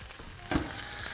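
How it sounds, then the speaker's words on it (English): A sirloin steak just taken from the oven sizzles in its pan, a soft steady hiss with a brief louder crackle midway, faint and with no talking. "You can hear it sizzling."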